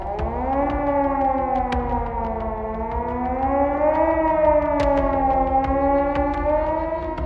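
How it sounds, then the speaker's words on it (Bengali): A wailing air raid warning siren sounds loud and steady, its rising and falling tone sustained throughout, set amid an alert over Russian drones entering NATO airspace across Europe. "মুহূর্তেই ইউরোপ জুড়ে বেজে উঠল সতর্ক সাইরেন।"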